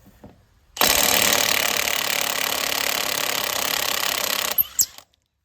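A Milwaukee Fuel 2962-20 mid-torque 1/2-inch impact wrench with a 7/8 socket hammers loudly and steadily for about four seconds, removing nuts rusted onto old farm equipment, then stops with a couple of short bursts.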